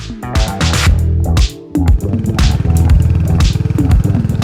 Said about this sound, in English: that little short stubby exhaust gives a really nice enhanced note